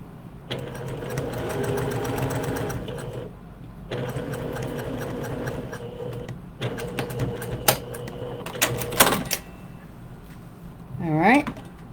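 A sewing machine stitches a shirt seam in steady runs of whirring motor hum, pausing and restarting several times, close and loud, followed by a few clicks and a brief rising whine near the end.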